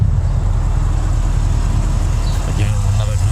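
A 2013 Porsche Cayenne Turbo V8 idles with a low, steady burble that carries on throughout, and a faint brief sound appears near the end.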